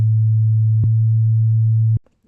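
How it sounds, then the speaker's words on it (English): Two low bass sine tones play one after the other as a loud, steady hum, with a short click between them and a brief tail of noise after the tone stops. "Here we have 2 sine waves at slightly different low frequencies."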